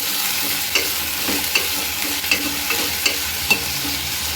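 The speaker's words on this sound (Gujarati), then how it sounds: "હવે આપણે સંભારેલી ડુંગળીયાની અંદર સારી રીતે મિક્સ કરી લઈશું" Chopped onions and browned garlic frying in a pan, stirred with rhythmic scrapes about every half second over a loud, continuous sizzle.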